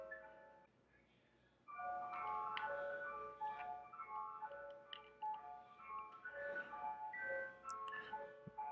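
Ice cream truck jingle from a basketball video game arena, a bright tinkling melody that starts faintly then jumps louder and plays on steadily as a looping tune.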